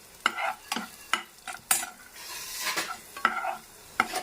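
Cumin and coriander seeds frying in oil, punctuated by sharp, regular stirring knocks of a spoon against the pan over a light sizzle, close up, with no speech.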